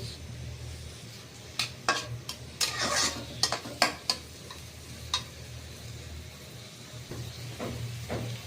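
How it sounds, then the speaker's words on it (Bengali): Chopped onions frying in oil in a pan, stirred with a few sharp scraping clicks over a low steady sizzle, no talking. "পেঁয়াজ কুচি দিয়ে ভালোভাবে নেড়ে চেড়ে নেব।"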